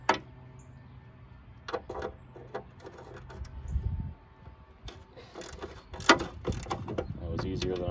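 Rusted bolts on a Snapper SPV mower's belt guide being worked loose with a wrench, close mechanical clicks and metallic creaks in short bursts, one sharp crack as a bolt breaks free, under a quiet workshop background.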